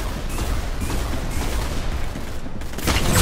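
Dense, continuous gunfire from Roblox Arsenal, overlapping rapid shots and blasts filling the whole stretch at steady loudness, with a heavier burst near the end; no one speaks.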